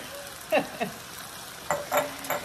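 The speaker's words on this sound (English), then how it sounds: "I'm just gonna let these saute, like warm up and get a little color on them" Drained peppers and mushrooms sauté in a hot pan, with a soft steady sizzle broken by a few louder stirring scrapes and clatters of a spoon; no one speaks.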